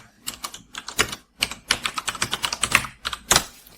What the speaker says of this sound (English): Once you finish typing, you can just press enter.